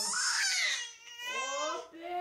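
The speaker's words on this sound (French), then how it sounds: "Finalement, le bébé s'agite," A fussing baby girl in the Kyrgyz Republic cries close up in two drawn-out, wavering wails, loud and continuous with a brief dip between them.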